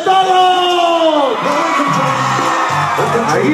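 A campaign rally crowd at a governor's race launch for the PRI party in Aquila, Michoacán, erupts in loud, sustained shouting, whoops and cheering, close and dense, with voices rising and falling over the whole stretch.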